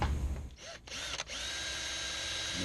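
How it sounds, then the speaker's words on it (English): A power drill bores a pilot hole through the body panel of a 2015 Dodge Challenger Scat Pack, a steady close whine running for over two seconds after a brief start and stop. "Make my pilot hole."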